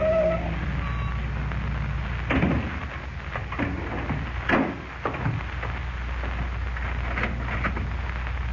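A borrowed car pulls up outside a real estate office, its low engine rumble steady and moderately close, with a couple of soft knocks and thumps along the way.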